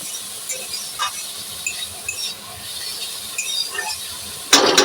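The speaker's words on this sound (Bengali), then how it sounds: "দেখো শাকটা ভাজা ভাজা হয়ে এসছে" Red amaranth greens with chilies stir-fry in a pan, with intermittent spatula scrapes over a light sizzle, ending in a sudden loud clatter close by.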